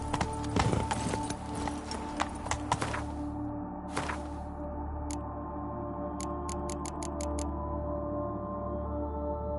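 Roach the horse trotting in The Witcher 3, steady hoof clip-clops under a continuous game ambience, with a few faint ticking clicks near the end.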